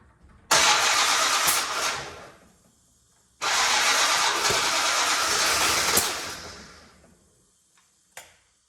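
An old barn-find Dodge Monaco, sitting unused for 36 years, cranks over in two long bursts with a rough engine roar and sharp popping backfires, then a single brief pop after a pause.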